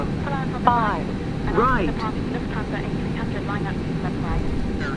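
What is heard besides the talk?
Air China jet airliner engines during takeoff roll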